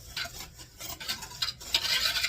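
Clear gel and sugar are stirred together in a bowl for strawberry blackberry pie filling, giving a close, rhythmic scraping and swishing with short pauses between strokes and no talk.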